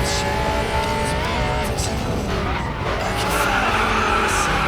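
Racing car tires skid and squeal loudly and continuously as a Lamborghini Gallardo in the Racing Master game is overtaken, with engine drone underneath and a sustained, wavering pitch throughout.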